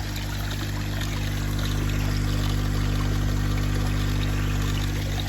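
Filtered water flows steadily from a pipeline back into a garden koi pond, a constant close splashing rush over a low, steady pump hum, with no break.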